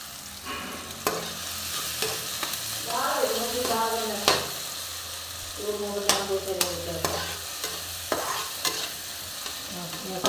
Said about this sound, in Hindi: घी गर्म हो गया तो मैंने टमाटर हरी मिर्च डाल दिया, अभी इनको भुनने देते हैं